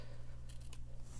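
Scissors snipping ribbon ends on a handmade slimline paper gift card holder, a few quick crisp cuts close by in a quiet room with a low steady hum behind.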